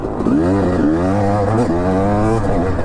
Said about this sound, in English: Do these old two-stroke dirt bikes suck?